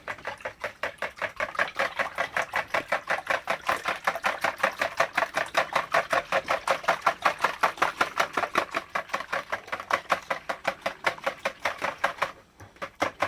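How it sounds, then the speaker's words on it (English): Wet ingredients, including eggs, are whisked in a bowl with a fast, steady, rhythmic clicking of the whisk that runs close and even for several seconds and stops briefly near the end, with no speech. "I'm going to get my whisk, and I'm going to whisk my wet ingredients"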